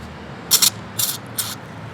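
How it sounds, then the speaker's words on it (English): Three short hissing bursts of spray cleaner shot into the carburetor of an old lawn mower, close by, each lasting a fraction of a second with quiet pauses between. "Okay, now I'm going to spray like in here."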